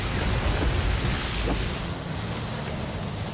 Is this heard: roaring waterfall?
yes